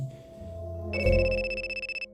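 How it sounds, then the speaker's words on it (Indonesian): A mobile phone rings with a bright electronic ringtone that pulses rapidly in repeated beeps after a low rumble and clunk at the start, fairly close and alone, with no speech. "Tiba-tiba handphoneku berbunyi."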